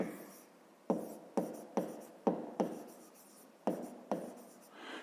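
Pen on paper writing out a math exercise, a series of about nine sharp taps and short strokes in an uneven rhythm, close and quiet.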